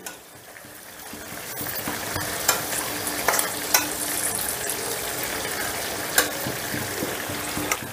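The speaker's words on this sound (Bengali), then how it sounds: "অল্প করে রাইস দেব আর মেশাবো।" Rice being stirred into chicken and its rendered oil in a hot pan gives a continuous loud sizzle with scattered scraping clicks of the spoon against the pan.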